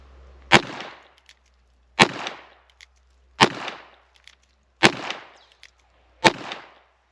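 Five sharp revolver shots from a Pietta Great Western II fired from the hip, evenly spaced about one and a half seconds apart, each a loud crack followed by a short echoing decay.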